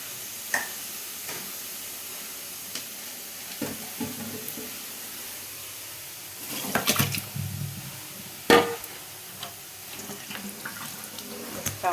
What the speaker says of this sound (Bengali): চাউমিনটা এবার আমি দেখো ছেঁকে নিই